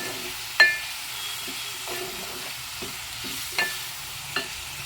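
Onions fry in a pan for a prawn and brinjal curry, a soft steady sizzle broken by occasional louder stirring scrapes and clinks of a spoon against the pan.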